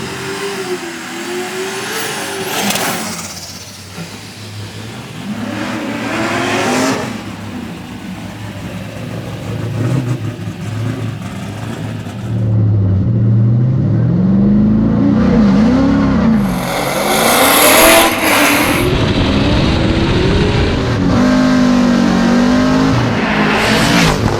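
Drift cars at a Formula DRIFT skills battle rev their engines hard, with rising and falling throttle sweeps, loud and close, swelling into sustained high-rev blasts toward the end.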